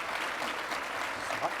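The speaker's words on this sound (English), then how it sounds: "So let's give them all a round of applause." Audience at a security summit applauds, a soft, even roll of many hands clapping heard from a distance, steady for the whole moment.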